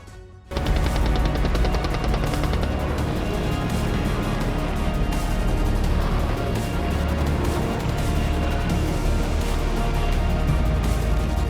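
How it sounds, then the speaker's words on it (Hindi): Dense, sustained machine-gun fire in a war setting, continuous loud bursts of automatic gunfire with crashing impacts, starting abruptly and rolling on without pause, no voices. "आसमान से गोलियों की बौछार"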